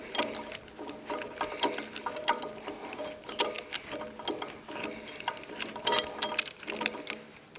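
A jack is cranked during teardown of an Allis Chalmers D17 tractor, giving steady, fast mechanical clicking and ratcheting. The rhythmic metallic ticks continue close up for several seconds with no voices.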